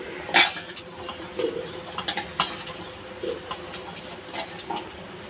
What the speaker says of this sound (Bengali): এবার আমি একটা প্রেসার কুকার নিচ্ছি। এর মধ্যে সবজিগুলো দিয়ে দেবো।